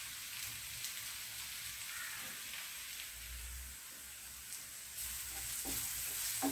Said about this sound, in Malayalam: ഉള്ളി ഒരുവിധം മൂത്തിട്ടുണ്ട്.